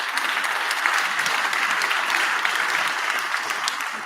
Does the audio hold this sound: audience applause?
yes